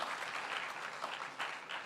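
A studio audience applauds at a comedy or talk event in a short, dense burst of clapping that rises briefly near the end. It is heard at a moderate distance.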